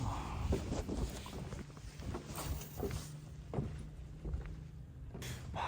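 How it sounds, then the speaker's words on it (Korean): Headwind buffets at a night sea fishing spot, gusty rumbling wind noise against the microphone with faint scattered knocks and footsteps throughout. "맞바람이 부네."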